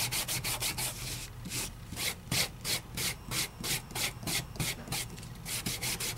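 A double stick sticker with glitter is burnished by hand, giving rhythmic close-up rubbing strokes, a steady back-and-forth scrubbing repeated about three times a second.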